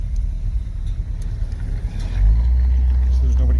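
An old black truck fitted with new modern fuel injection rumbles low, then its engine swells louder as it pulls away, a close, steady drone with no talk over it.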